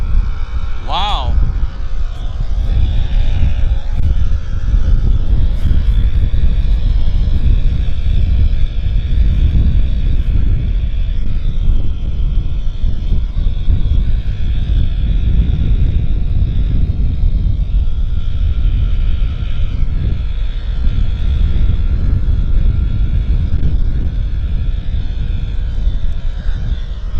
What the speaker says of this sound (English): That's a propeller plane doing engine run-ups, and it sounds like they're running it up so high they're going to break the engine.